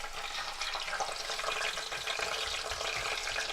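Kettle-cooked potato fries sizzle in oil heated to maximum temperature for the first of two fryings, a steady, dense crackling hiss that stays even and fairly quiet throughout.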